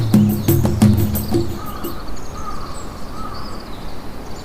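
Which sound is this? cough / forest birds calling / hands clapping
forest birds calling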